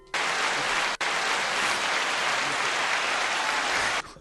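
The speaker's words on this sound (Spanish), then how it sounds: "se me ha escapado este aplauso" A burst of recorded applause, triggered by mistake during a talk on Napoleon, plays loud and dense for about four seconds, with a brief dropout near the start and no voices.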